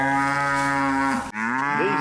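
Half Brahman, half Angus cattle moo in a long, loud, deep drawn-out call that breaks off briefly and then resumes with a second rising moo close by.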